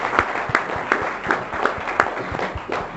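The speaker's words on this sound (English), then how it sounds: "Can we please have a round of applause to Atul?" An audience in Bangalore claps in a brief, scattered round of applause, individual hand claps standing out sharply and irregularly over a short moment.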